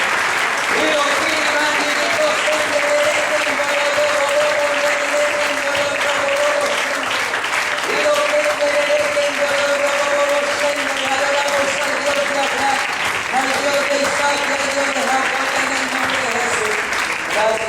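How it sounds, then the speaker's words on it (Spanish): A church congregation applauding: loud, sustained clapping from many hands that runs without pause, with a tonal voice or music line weaving above it. "Dale un fuerte aplauso a Cristo."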